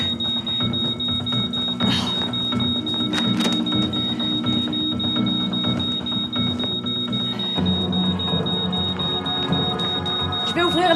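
A smoke detector sounds a steady high electronic beep in a home kitchen after food was left cooking on the stove, ringing continuously under background music and movement.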